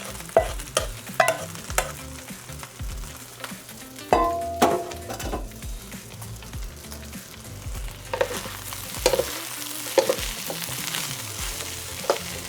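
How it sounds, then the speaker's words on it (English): Fried rice stirred in a pan with a utensil, scraping and clinking repeatedly against the bottom over a steady frying sizzle, loud and close with no talking. "I'm going to want to stir it to keep it from sticking to the bottom as much as possible for about 6 minutes or so"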